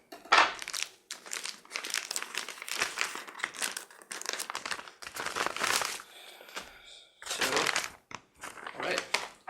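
Raspberry Pi Model B packaging and bubble wrap being unwrapped, with close crinkling, crumpling and tearing bursts separated by short pauses.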